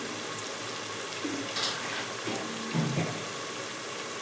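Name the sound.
water being poured into a cooking pot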